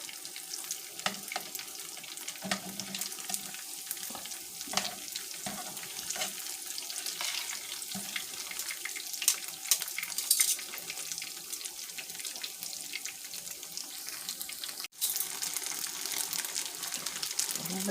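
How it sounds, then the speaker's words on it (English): Breaded vegan tofu chicken pieces fry in hot oil in a pan on medium-high heat, giving a steady, even hiss and crackle that runs the whole time, fairly close, with no talking over it. "our tofu chicken carefully to the hot oil."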